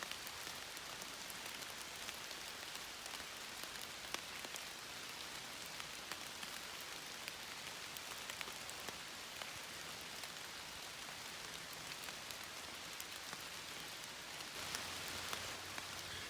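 Rain falls steadily along the Appalachian Trail in Virginia, a soft, even wash of drops on the woodland around, faint and constant with no voices.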